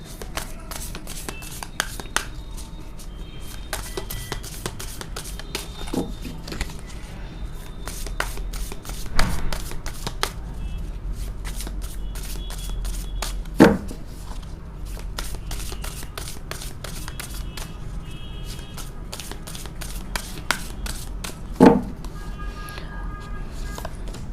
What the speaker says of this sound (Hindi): so let's shuffle the cards first